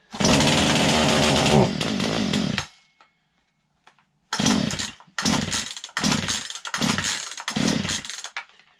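Poulan chainsaw started by pulling the starter cord: a loud engine burst that sputters out, a silent pause, then five rhythmic rasping cord pulls with the engine briefly catching.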